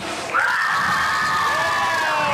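A conference crowd from Garden River cheers and shouts together, a loud, sustained wall of voices with high screams rising over it, steady for the whole stretch.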